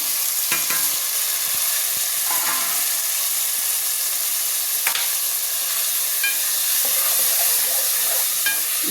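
Tomato pieces fry with curry leaves in a pan for a broad bean and tomato curry, giving a loud, continuous sizzle and hiss with occasional stirring scrapes and clicks.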